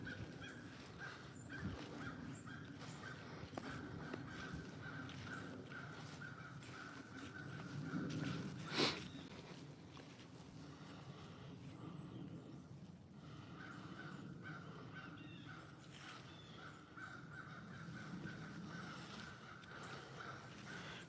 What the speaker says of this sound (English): Got the crows all worked up